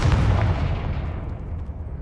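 A Confringo explosion spell in Hogwarts Legacy goes off as one loud, close burst that decays into a rumbling tail over about two seconds, with no talking.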